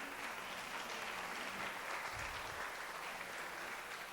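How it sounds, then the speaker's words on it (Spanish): A church congregation claps for God during a service, a dense, even wash of applause that sounds distant and fairly faint and continues steadily throughout. "Vamos a dar un aplauso a Dios."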